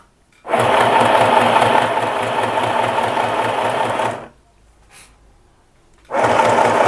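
A sewing machine stitches a straight seam on tricoline fabric, running in a loud steady buzz for about four seconds, stopping with a faint tap in the pause, then starting up again.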